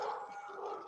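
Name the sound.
dogs barking and howling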